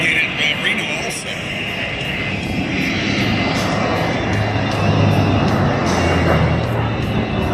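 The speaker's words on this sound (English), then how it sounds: "the airplane is flying really happy at this moment" A propeller racing airplane drones steadily overhead at an air show, its engine hum constant and fairly loud, with a voice talking underneath.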